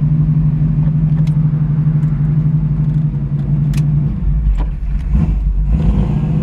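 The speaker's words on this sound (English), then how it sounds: "It does have a big hoppy cam in it, so you gotta give it a little gas to get her rolling." A 1970 Chevrolet Camaro with a big, lumpy cam idles with a loud, steady, choppy rumble close by, then the engine note rises and shifts briefly as the throttle is blipped near the end.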